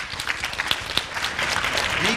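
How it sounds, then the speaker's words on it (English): A group of young children clapping together in a classroom, a steady burst of applause with some scattered voices mixed in, filling the short moment evenly. "Let's give them a round of applause."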